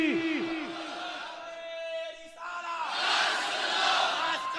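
A large crowd at an Islamic religious gathering roars back a chanted slogan in unison, loud voices swelling and sustained for several seconds as a single massed shout.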